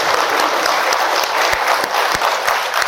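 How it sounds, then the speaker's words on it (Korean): An audience at a church book concert hosted by a Catholic priest claps steadily and densely, a close, continuous round of applause lasting the whole three seconds. "박수를 부탁드립니다."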